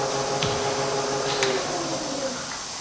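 A Bridgeport milling machine with its spindle turning slowly at 50 RPM gives a steady, close mechanical hum with a faint whine and a couple of brief clicks, no talking.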